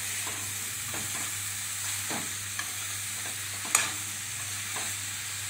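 Pumpkin curry vegetables are stirred and tossed in a hot wok, scraping and clinking over a steady sizzle, with one sharper clank near the end.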